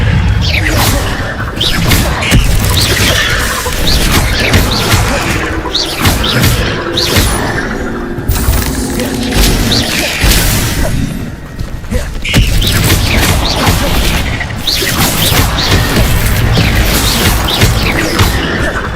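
Spell impacts from the Expelliarmus disarming charm in the Hogwarts Legacy video game, a dense run of booms, crashes and whooshing bursts that stays loud and busy throughout, mixed with other combat sounds.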